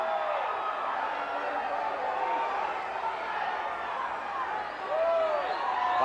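A capacity wrestling arena crowd cheers and jeers a kilted wrestler in a 1984 televised match, a dense, steady roar with rising whistles and shouts throughout.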